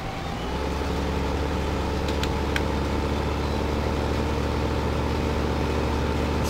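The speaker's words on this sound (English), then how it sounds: "This tractor is really slow." A tractor engine in Farming Simulator 15 runs at a steady, loud, low drone with a constant mechanical hum and no change in pitch.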